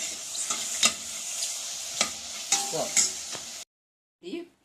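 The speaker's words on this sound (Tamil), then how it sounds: "இப்படி வதக்கி எடுத்துக்கோங்க" Mushrooms seasoned with salt and black pepper sauté in a hot pan, a steady sizzle broken by sharp spatula scrapes and clinks, then a sudden silence and one last brief stir.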